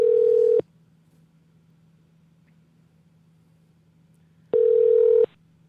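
Two bursts of steady telephone ringback tone on an outgoing call, each about half a second long and separated by several seconds of quiet line hiss, heard plainly with no talking.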